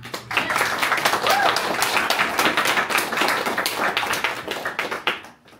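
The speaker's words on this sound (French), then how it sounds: "je tiens à ce qu'on les applaudisse" An audience at a youth colloquium applauds the volunteers, a dense burst of clapping that holds steady for several seconds, then thins and fades out.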